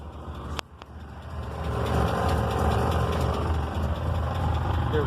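An old junkyard Dodge Charger idles roughly with carburetor problems, a steady, fairly loud engine rumble close by. A sharp knock sounds near the start, and then the idle settles into a continuous uneven drone.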